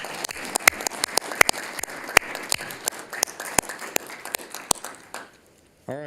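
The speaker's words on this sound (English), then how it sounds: "One last round of applause." A small group at a fire commissioners board meeting claps, sparse and individual hand claps rather than a full roar, lasting about five seconds before it stops abruptly.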